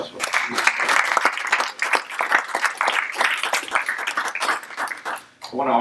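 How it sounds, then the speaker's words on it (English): Conference audience applauding at a panel of former governors, a dense steady patter of many hands filling the room, with voices cutting in near the end. "How about a round of applause?"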